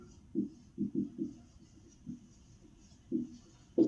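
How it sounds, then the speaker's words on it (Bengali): A teacher writes on the board during a class 9 maths lesson, a series of short, close scratchy strokes in uneven bursts with quiet pauses between them and no talking. "আমি লিখে দিচ্ছি"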